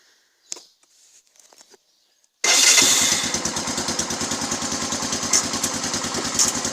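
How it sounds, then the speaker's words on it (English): Quad bike engine cranking into life outdoors in strong wind: a few faint clicks and rustles, then the engine catches abruptly and settles into a loud, steady, rapidly pulsing idle close by. "I'm going to get the quad bike key and have a look. So it's going to be very noisy while I go around on the quad."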